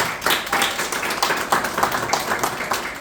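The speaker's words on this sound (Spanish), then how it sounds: "Un gran aplauso para don Matías Verano." A small audience at a book presentation applauds author Matías Verano, a close, fairly loud patter of individual hand claps in an uneven rhythm, sounding like a modest group rather than a large crowd.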